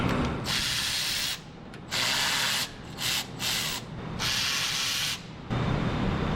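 A wrench ratchets on a bolt on a chassis-swapped 1953 vehicle project in a series of close, loud bursts of rapid clicking separated by short pauses.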